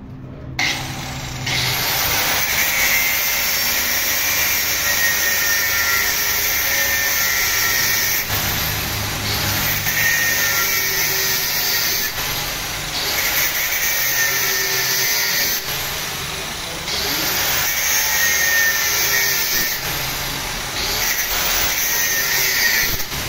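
An angle grinder runs steadily during a front wheel bearing replacement on an Iran Khodro car. The whine is loud and continuous, dipping slightly now and then as the load changes, and no one speaks over it.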